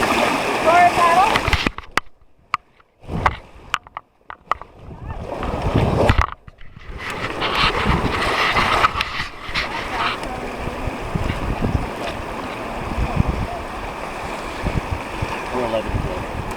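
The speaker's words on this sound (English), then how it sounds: "Forward paddle." Paddles splash and churn river water during a Deschutes River rafting trip, with loud bursts of splashing and rushing water, brief lulls, then steady turbulent water noise under shouted voices.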